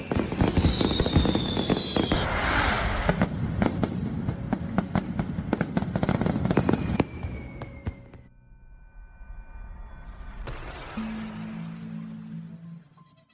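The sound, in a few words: fireworks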